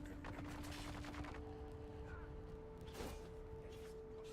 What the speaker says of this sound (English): I just heard an explosion. Gunfire. Weapons fire